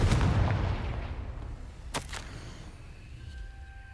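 A Confringo fire spell explodes in the Hogwarts Legacy video game, starting with a loud rumbling blast that slowly fades, followed by a sharp double crack and a quieter tail.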